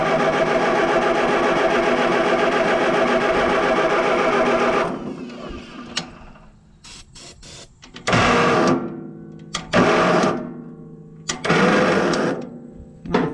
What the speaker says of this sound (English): Let's see if we're carbureting or not. Now that we got sparks, it probably isn't carbureting. Anyway, let's try a little throttle.